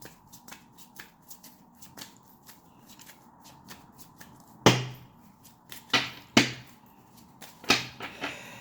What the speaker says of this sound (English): Let me pull out these cards.